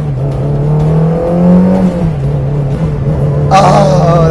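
Ferrari 360 Modena engine pulling hard in first gear from inside the cabin, a steady loud low drone with a brief rise in pitch midway and a burst of high wind or exhaust noise near the end.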